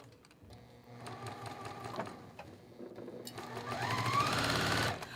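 A sewing machine stitches steadily with a quarter-inch presser foot while quilt blocks are pieced, a close, continuous mechanical whir that swells louder and faster near the end before stopping.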